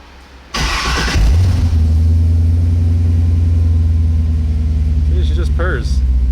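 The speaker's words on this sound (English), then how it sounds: "Listen to this thing start up." A Corvette C2 restomod cranks with a short whir of the starter, fires up with a loud burst and settles into a deep, steady, rumbling idle close by, with slight pitch wobbles near the end.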